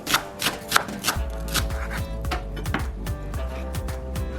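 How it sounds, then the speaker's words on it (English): A knife slices lettuce into thin strips on a cutting board, with crisp leafy crunches at first and then a steady run of quick, rhythmic chops knocking against the board, close and alone. "Now I'm cutting the lettuce into thin slices."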